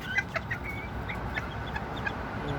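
Bantam chickens cluck and chirp in a short run of sharp, close calls over a steady farmyard background hum, with several quick clucks clustered near the start and scattered calls after.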